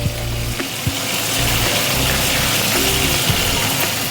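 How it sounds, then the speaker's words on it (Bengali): Chopped onion and green chillies fry in hot oil tempered with nigella seeds, a close, steady sizzle with light stirring clatter and no talk. "কালো জিরে ফোড়ন দিয়ে লঙ্কা, এই যে পেঁয়াজটা ভাজা হয়ে গেছে।"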